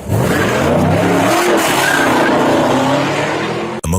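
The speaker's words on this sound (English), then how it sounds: "Instead of slowing down, the driver slams on the accelerator and disappears into traffic" A car fleeing a traffic stop accelerates hard, its tires squealing loudly and continuously as the engine roars close by, ending in a sharp cut.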